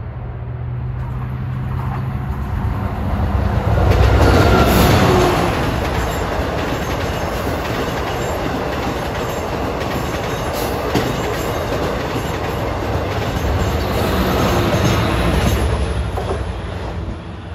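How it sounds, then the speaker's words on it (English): A Long Island Rail Road commuter train rumbles past steadily at Elmont with continuous rolling roar and faint wheel clatter, swelling slightly then holding for the whole stretch. "speeding east on 1 at 6 o'clock is train 664."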